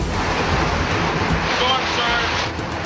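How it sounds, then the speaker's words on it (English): Hurricane Katrina storm surge, a heavy continuous roar of rushing water and wind, loud and close, with voices faintly mixed in. "Storm surge."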